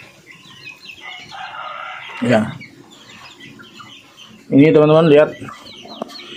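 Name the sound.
chickens clucking in a poultry pen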